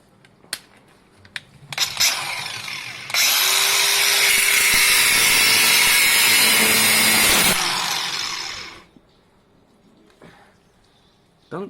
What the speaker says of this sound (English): this amazing trimming that you're doing using the biggest angle grinder in the world